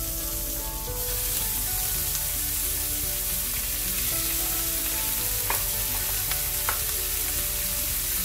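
A steak sears in a hot pan with a little oil, giving a loud, dense, continuous sizzle close by, with a few faint clicks over the steady hiss.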